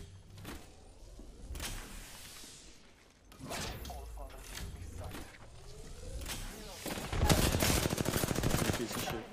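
Bursts of automatic gunfire in the battle royale game Apex Legends, growing louder and denser toward the end, with players talking over the shots.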